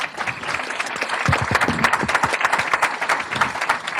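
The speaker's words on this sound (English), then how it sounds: "let's give a round of applause for our panelists" Loud, dense applause from a panel discussion audience, steady clapping filling the whole stretch without a break.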